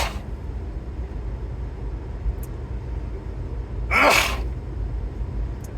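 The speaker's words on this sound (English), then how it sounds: "I'm gonna sneeze." A single sharp sneeze bursts out close by over a low steady background hum, loud and brief.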